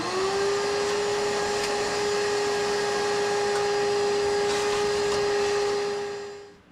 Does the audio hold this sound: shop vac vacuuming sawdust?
yes